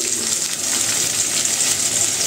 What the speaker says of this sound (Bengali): সকালবেলা ঘুম থেকে উঠেই বেশি করে জল ভরে রাখছি